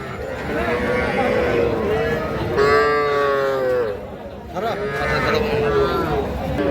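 A bull calf moos at a busy cattle market, a long drawn-out call rising near the middle and a second one after a pause, heard close over steady crowd chatter and people talking nearby.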